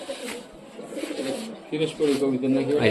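High flyer and Giribaz pigeons at a keeper's loft, a few soft low coos rising toward the end, close and quiet, with faint background voices.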